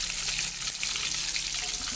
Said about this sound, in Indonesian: langsung bunda goreng aja deh sukunnya minyaknya agak hitam ya bekas goreng tempe kemarin